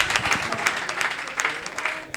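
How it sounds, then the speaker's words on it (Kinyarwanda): An audience bursts into applause at a live comedy show, a dense wash of clapping hands, fairly distant and moderately quiet, continuing steadily for a couple of seconds. "Amashyi menshi cyane ku muntu."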